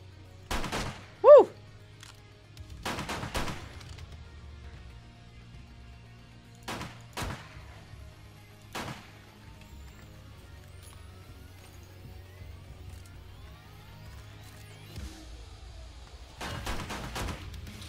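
Gunfire in the video game 7 Days to Die during a Gun Game match, several sharp shots spread apart over a low steady hum, with a louder burst at the end.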